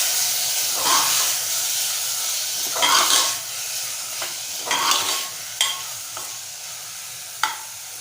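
Boiled sprouted brown chana and potatoes are stirred in a hot frying pan, with a steady sizzling hiss underneath and several distinct scraping strokes of the spoon spaced through it. No one speaks.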